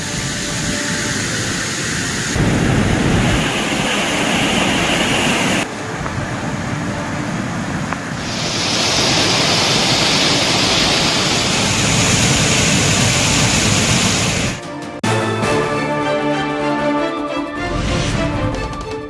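Floodwater overflowing from a full lake at Kalungupatti near Singampunari, Sivaganga, pours down like a waterfall in a loud, continuous roaring rush that shifts in tone across cuts, with no talk heard.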